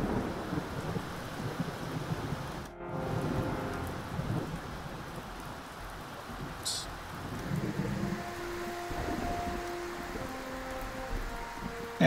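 Rain pours steadily in the submarine game UBOAT, with a brief crack of thunder and low rumbles under the hiss of the downpour, a dense continuous storm bed throughout.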